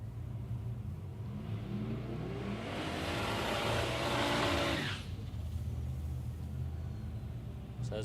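Drag racing cars, a Commodore and a Supra, idle and rumble at Warwick Dragway, one engine swelling into a loud sustained rev for a few seconds before dropping back to a steady idle.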